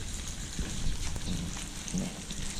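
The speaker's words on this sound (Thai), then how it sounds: "เจียวน้ำมันหมูต้องใจเย็นๆนะแล้วก็ไฟขนาดนี้เลย" Pork fat frying down into lard over a charcoal-fuelled biomass stove, a steady close hiss and crackle with occasional soft pops, no talking.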